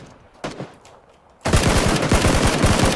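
UMP submachine gun firing in the video game PUBG, a loud, rapid automatic burst that erupts after a brief quieter shot and continues without pause to the end.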